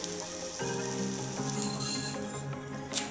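A rice flour paratha roasts on a hot pan, giving a steady close sizzle with faint scraping and rubbing of the pan, without any talk.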